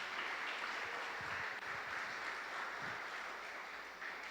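Congregation applauding during a Sunday church celebration service, a steady wash of distant clapping throughout with a few low murmurs and rumbles underneath.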